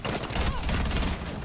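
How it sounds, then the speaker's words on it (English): Gunfire in Rainbow Six Siege, a dense rattle of quick shots packed into a moment, fairly loud and close, with game noise around it and no clear talk. "this guy's shooting"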